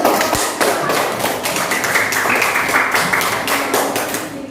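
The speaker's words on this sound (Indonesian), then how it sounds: "beri aplaus sekali lagi" Classroom applause, a dense run of clapping hands that holds steady for several seconds, loud and close, with no voices over it.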